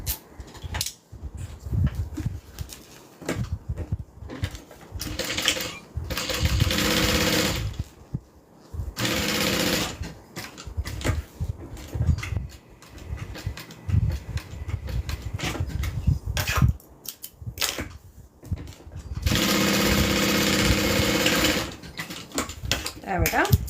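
Sewing machine stitching down both sides of a bag handle, bursts of rapid mechanical clatter of varying length separated by pauses, with a voice talking at times in between.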